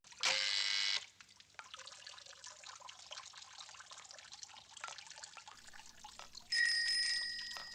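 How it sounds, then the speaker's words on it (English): A bright bicycle bell rings twice in a Jacques Tati film, once at the start and again near the end, each ring sustained and clear over a quieter background of running water. "There's Tati's bell again."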